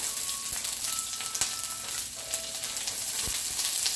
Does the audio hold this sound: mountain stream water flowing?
no